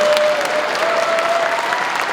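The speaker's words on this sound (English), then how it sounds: "You can clap for that." A crowd at a New York State Assembly inauguration breaks into loud, dense clapping, a sustained roar of hands with a faint tonal whistle running through it.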